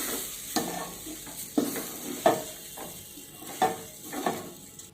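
Rice frying in a pan with pulao ingredients, a soft sizzle under repeated stirring scrapes and clinks from a spoon, several distinct strokes at an irregular rhythm, close and moderately quiet.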